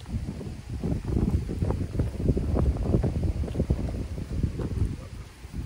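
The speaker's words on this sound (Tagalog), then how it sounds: "Mahangin." Steady wind buffets the microphone in low rumbling gusts, continuous and fairly loud throughout, with no voices.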